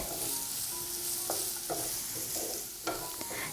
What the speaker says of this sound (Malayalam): ഞാനിപ്പോൾ ഇത് വഴറ്റാൻ തുടങ്ങിയിട്ട് ഏകദേശം ഒരു 2 മിനിറ്റും കൂടുതലായിട്ടുണ്ട്